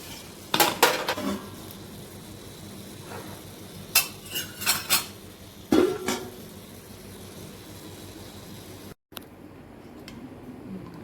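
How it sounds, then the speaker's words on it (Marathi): A metal lid set down on a pot of black pea curry, heard as several close clanks and rattles of metal on metal spread over a few seconds, then quiet kitchen background. "त्याच्यावर झाकण ठेवूया आपण"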